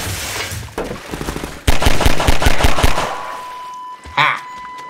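Rapid automatic gunfire in Half-Life 2 rattles out as a dense, loud burst of closely spaced shots, followed by a few scattered blasts and a brief flash of voice near the end.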